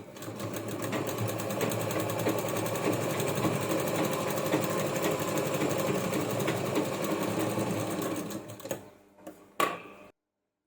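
A sewing machine stitches a bag made from a sari blouse piece, running in a fast, steady rattling stream for about eight seconds before stopping with a few short bumps.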